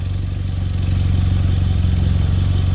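Nissan Altima engine idling with an exhaust leak at the junction under repair, a steady close low hum with a rapid even pulsing rumble and no talk.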